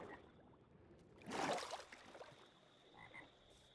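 Frogs croak in the video game Life in the Village 2, a short burst of rasping calls at mid-distance followed by a few fainter croaks against a quiet ambient outdoor background.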